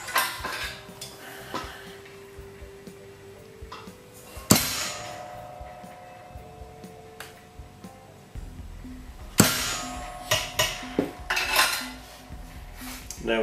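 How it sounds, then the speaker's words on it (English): Sharp metallic taps of a hammer on a center punch into metal, a few distinct strikes spaced apart with lighter clinks between, close and fairly loud in a quiet workshop. "I like to give it another little center punch to set the hole a little deeper"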